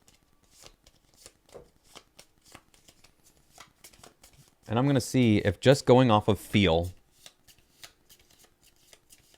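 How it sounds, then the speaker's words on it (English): Magic: The Gathering proxy cards being shuffled by hand, a steady run of crisp, rapid riffling flicks up close, continuing beneath a voice partway through. "I'm just going to shuffle these a little bit, or a fair bit."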